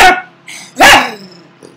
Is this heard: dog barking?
yes